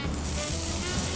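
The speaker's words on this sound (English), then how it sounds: "2 knobs of butter goes right in." Two knobs of butter hit a hot pan while a Christmas rack of lamb is cooked, a steady close hissing sizzle with no talk.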